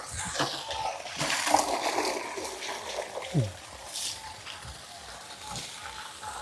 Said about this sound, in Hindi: आइए, पानी के नीचे बैठिए, पूरा बैठिए, हम पानी से डालते हैं।